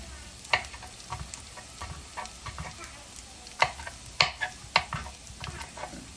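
Chopped onion browning in a frying pan, a soft steady sizzle broken by sharp clicks and scrapes of a utensil stirring against the pan, close by with no talking.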